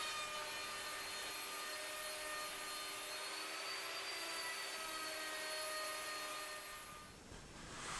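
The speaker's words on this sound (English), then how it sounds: "With the router fixed, the WoodRat is working just like a router table, profiling, but the right way up." Router fixed in a WoodRat jig profiling wood that is fed by hand, a steady high-pitched whine with cutting hiss, continuous and close for most of the clip before easing off near the end.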